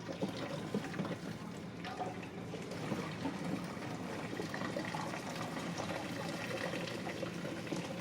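Pasta water being drained from a pot by holding its lid as a strainer, a steady rushing gush of liquid pouring out continuously and fairly close throughout.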